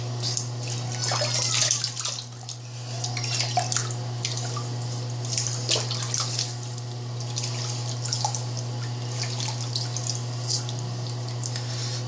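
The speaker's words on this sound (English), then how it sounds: "I'll rinse my face off" Water splashes and drips as a face is rinsed after a wet shave, with intermittent close splashing and trickling over a steady low hum from the room.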